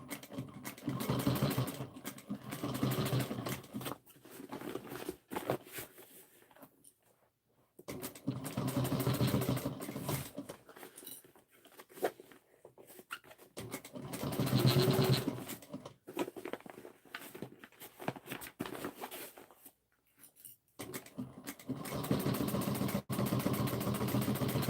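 A sewing machine stitches binding onto an Erica-style fabric bowl cozy, running in close, loud motor bursts of several seconds each, separated by brief pauses.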